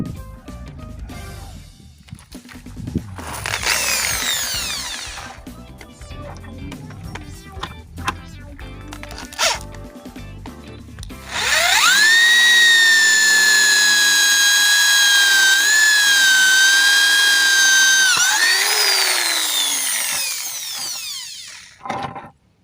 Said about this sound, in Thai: เจาะไม้ก็ได้นะครับท่านผู้ชม สบายๆเลยนะครับ ไม้ตรงนี้นะครับ เป็นไม้เนื้อแข็ง นะครับ